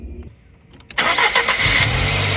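A Fiat Coupe with a 2-liter 16-valve turbo engine of 190 horsepower cranks briefly and then fires up loudly, settling into a steady, rumbling idle close by.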